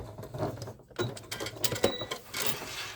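A Janome Inspire sewing machine top-stitching a crossbody bag with a walking foot, a quiet mechanical whir with fast light ticking and patter in short uneven bursts, close by.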